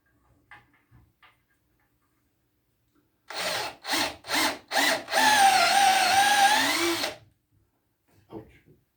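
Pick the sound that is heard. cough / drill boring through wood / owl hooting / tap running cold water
drill boring through wood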